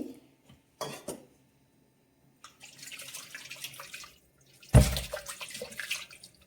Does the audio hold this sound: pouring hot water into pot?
yes